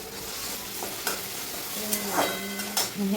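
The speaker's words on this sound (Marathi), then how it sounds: "मी इथे सिंपल कादा कांदा परतून घेतलेला आहे आणि त्याच्यानंतर टोमॅटो टाकते" Tomatoes go into a pan of sautéed onions, producing a soft, steady sizzle with intermittent stirring scrapes and clinks from a utensil.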